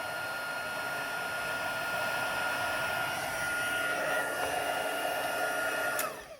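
A heat gun runs steadily on high, melting embossing powder on a sheet of cardstock from underneath, giving a continuous close airy roar with a faint whine until it cuts off near the end.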